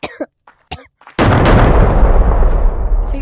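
Airstrike explosions in the VR game Gorilla Tag, a sudden loud blast followed by a long rumbling roar that slowly decays, after a few brief coughs or vocal sounds.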